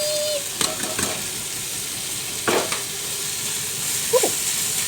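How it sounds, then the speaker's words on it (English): Mince meat browning with vegetables in a hot pan for lasagne, a loud continuous sizzle and hiss with a few scraping stirs and clunks of a utensil, no voices. "So we're going to get that meat browned off in there with all of the vegetables."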